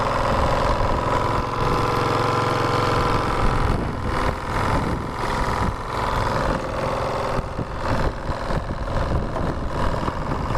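A model boat's small engine idles steadily and loudly without pause, with a buzzing, even drone and slight fluctuations throughout.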